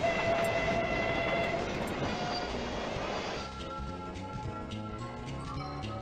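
Train sound effect from the Who Dunnit? pinball table: a loud rumbling rush that settles into a steadier rhythmic clatter after a few seconds, heard on its own without talking.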